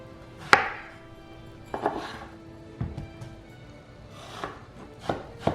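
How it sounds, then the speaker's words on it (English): A knife slicing the skin and rind off flat-laid watermelon slices on a cutting board, heard as about six distinct chopping thunks against the board, spaced roughly a second apart, close and fairly crisp. "I find it's a lot simpler to remove the skin and the rind by laying the slice flat on the cutting board"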